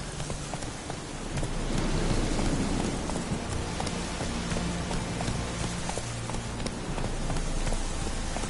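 A horse gallops in The Witcher 3 with rapid, rhythmic hoofbeats and rain falling on the ground around it. The pounding stays steady and fairly close throughout.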